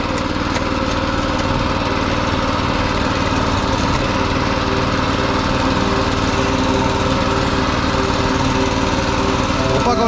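A motor tiller works a potato garden, its small engine running loud and steady without a break, a close rattling drone with no pauses.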